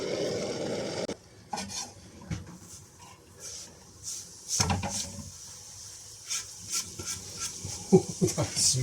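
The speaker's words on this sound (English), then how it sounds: "I'm just going to go and cook this now in the butter." Flowers sizzle softly in butter in a pan during outdoor cooking, with intermittent scraping and clattering of a utensil stirring them close by.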